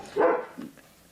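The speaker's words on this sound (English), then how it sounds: "Maybe he'll hear Curly barking and come down." A single sharp dog bark close by, followed by a softer second yip and then quiet.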